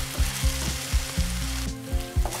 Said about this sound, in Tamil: இஞ்சி பூண்டு பேஸ்ட்டை ஆட் பண்ணிவிட்டு இதை நல்லா வந்துட்டு ஃப்ரை பண்ணி விடணும்.